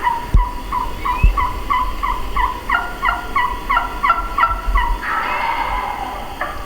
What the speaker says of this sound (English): See if you can make that high pitch. See how loud she was with that one?